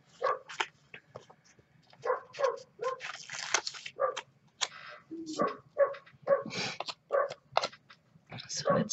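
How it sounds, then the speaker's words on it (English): A neighbor's dog barks in short bursts nearby, mixed in with a person talking close up. "Oh, and there's the neighbor's dog."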